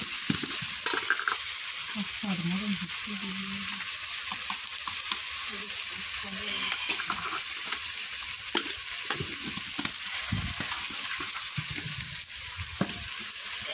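Chopped onions salted and frying in a pan sizzle steadily while a spatula stirs them, scraping and clinking at irregular moments, with no talk.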